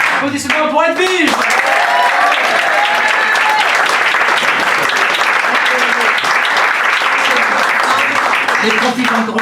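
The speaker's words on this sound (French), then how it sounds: "Applaudissements pour Edwige" Loud, dense applause fills a comedy club for comedian Edwige. Voices shout over the start, then steady clapping carries on to the end, with talk returning briefly at the close.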